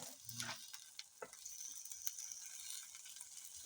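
Tomatoes hit a hot pan in a village kitchen and fry with a quiet, steady sizzle, broken by a few scraping stirs near the start and middle.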